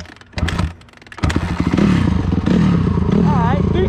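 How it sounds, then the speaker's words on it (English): A Honda CRF250R dirt bike is kick-started in cold weather: a few clattering kicks, then the engine catches and runs loud and near with a steady idle and rising revs, a voice talking over it. "Then you start first kick."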